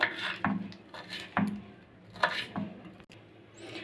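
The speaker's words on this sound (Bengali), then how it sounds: "এবার লঙ্কাগুলো কুচিয়ে নেব।" A knife chops green chillies on a board in a home kitchen, giving a few sharp, irregular knocks with light metallic clinks, close and fairly loud, and no voice over it.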